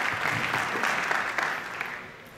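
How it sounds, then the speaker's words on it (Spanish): An audience at a church congress applauds, a dense wash of clapping hands that holds steady and then thins slightly toward the end, heard from within the crowd. "That was a perfect time to applaud."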